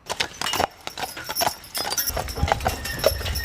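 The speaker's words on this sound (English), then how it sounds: "For over 40 years, the State Line Draft Horse Club has given horse-drawn wagon rides at Chautauqua Institution" Draft horses pulling a wagon on a ride at Chautauqua Institution clip-clop in a clear, uneven rhythm of hoof strikes, close and fairly loud, with faint rattling behind them.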